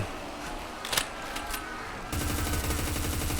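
MK-16 Mod 2 rifle, fully upgraded, in the Roblox game Deadfront: a few scattered shots, then from about two seconds a loud, sustained burst of rapid automatic fire with an even, fast rhythm.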